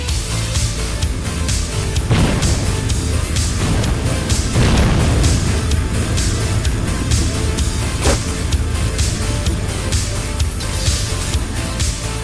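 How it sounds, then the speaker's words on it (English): Flash grenade and random explosions in the Mace Griffin: Bounty Hunter video game, a loud, dense stretch of booms and bursts over constant game noise, with no pause. "Whoops, got hit by a flash grenade."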